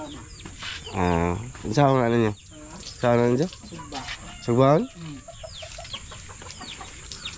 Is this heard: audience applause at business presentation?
no